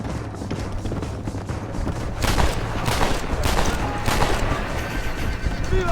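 Gunfire in a Mexican desert shootout video game, several sharp shots crack out in bursts over a steady rumbling background, with a horse whinnying and shouting voices mixed in.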